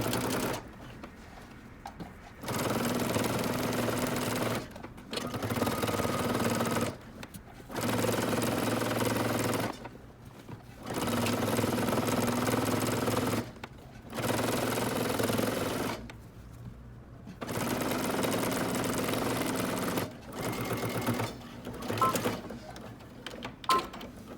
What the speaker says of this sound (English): we're going to go and stitch all the way around using 5/8 of an inch seam allowance